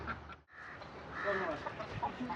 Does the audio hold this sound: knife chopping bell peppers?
no